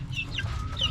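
One-month-old chicks and a hen cluck in short, close, soft calls over a low background murmur, no talking.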